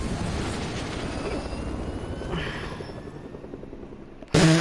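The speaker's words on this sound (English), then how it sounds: "He just took off the helicopter." A helicopter lifts off in a video game, giving a steady low rotor and engine rumble that slowly fades, then an abrupt loud burst of sound right at the end.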